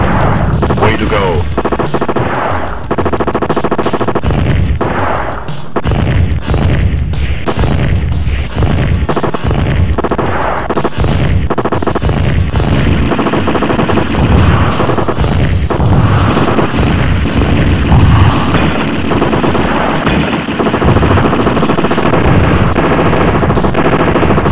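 Heavy machine-gun fire rattles almost without pause through the Terminator 2 Judgment Day arcade shooter, mixed with booms and explosions in a loud, dense wall of battle sound, with a voice heard now and then.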